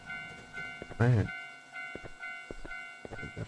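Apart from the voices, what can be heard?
train passing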